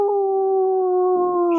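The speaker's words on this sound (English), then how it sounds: "some wolf howls in there" A wolf howl sound effect holds one long, steady, loud note from start to finish, sliding gently downward in pitch over its length, and no one speaks over it.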